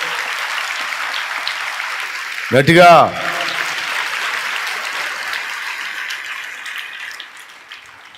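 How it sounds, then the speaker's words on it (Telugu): A church congregation bursts into applause for God during a Sunday service, a brief loud burst of clapping rising over the preacher's amplified speech, with talk continuing before and after. "ఇప్పుడు కొట్టాలిగా మరి దేవునికి చప్పట్లు"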